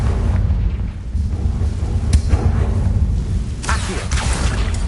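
A Confringo fire spell bursts in Hogwarts Legacy, a heavy rumbling blast with a sharp crack and roaring low-end boom under continuous loud background noise.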